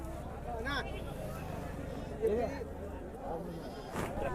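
Goats bleat at a busy rural livestock market in Dubbaka, Siddipet district, several calls rising over a steady crowd murmur and nearby chatter throughout.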